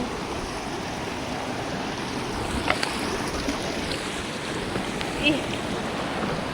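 A river rushes past in a continuous, loud, even wash of flowing water that fills the whole stretch, with only faint occasional clicks above it.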